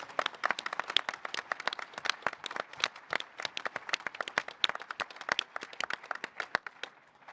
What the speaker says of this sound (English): So I'd just like to make sure we give them a massive round of applause